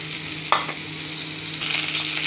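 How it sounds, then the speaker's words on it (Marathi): Chopped okra tossed into onion already browning with cumin and mustard seeds in a pan, a steady close sizzle with one sharp clatter early on and the frying growing louder toward the end. "आता कापलेली भेंडी जी आहे ती या कांद्यामध्ये भाजलेल्या टाकूया"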